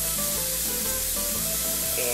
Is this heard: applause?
no